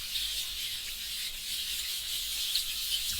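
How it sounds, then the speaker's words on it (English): Plastic film rubbed across a makeup eyeshadow palette gives a faint, continuous hissy scraping texture, close up and quiet, with no talking. "the section of audio where I was basically wiping the film over the palette itself."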